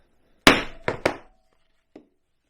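A mallet strikes a cutter on rawhide three times in sharp succession, giving loud, close, ringing knocks, followed after a pause by one fainter tap.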